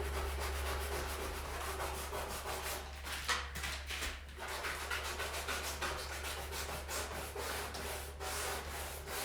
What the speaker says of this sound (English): it's actually scraping off this top layer of gold and it's showing some of the white